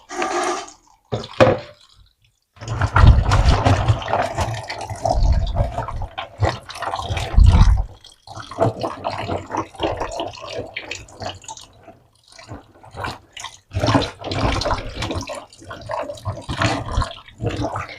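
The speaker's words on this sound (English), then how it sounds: "So first, we are going to wash our palm fruits." Dirty palm fruits being washed by hand in water, with sloshing, dripping and splashing that comes in uneven bursts, some loud, with short pauses between them.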